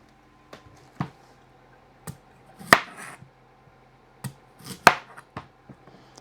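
Knife dicing washed turnips on a cutting board, a handful of sharp separate chops with a couple louder strikes, close and fairly quiet with gaps of near silence between cuts.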